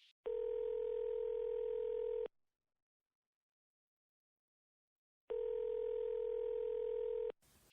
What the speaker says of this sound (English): When you hear the signal, the time will be 11:50 and 1/2.